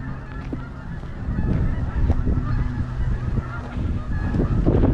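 Geese honk repeatedly along a rural hiking trail in Pennsylvania's Brubaker Valley, calls overlapping in a steady, fairly close chorus with outdoor ambience beneath.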